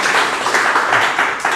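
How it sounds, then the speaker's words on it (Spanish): Church congregation applauding, a loud, dense, continuous clapping that fills the room without pause. "Vamos a darle un fuerte"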